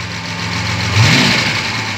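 A V12 Jaguar E-type engine runs loud and close, its steady idle surging into a short throttle rev that swells and then eases back to a constant rumbling drone.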